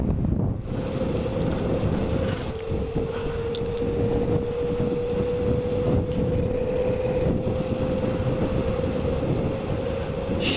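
A Xiaomi M365 electric scooter converted to a 2kW rear motor, running at half throttle, gives a steady tonal motor whine under constant wind rush that lasts throughout without a break.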